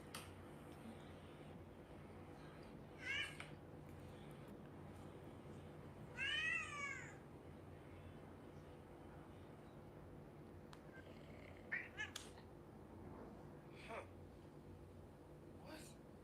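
A cat meows several times, with short, separate cries spread across the clip over a steady low background hum. A person can be heard nearby.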